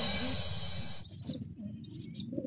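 A large bird, likely a pigeon or dove kept by a bird fancier, gives short cooing calls over a rumbling low background, with a higher bright tone at the start.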